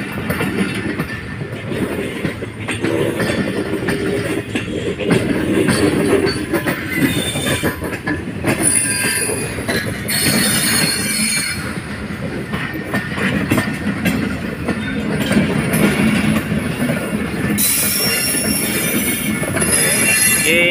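A new passenger train, the summer vacation special from Rohri to Karachi, rumbles steadily along the track with rhythmic clickety-clack, and bright wheel squeals rise in places, heard close from aboard the train.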